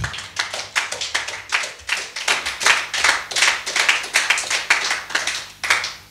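A church congregation claps together during a sermon, a steady run of sharp, close hand claps with a fairly even rhythm and no talk over it.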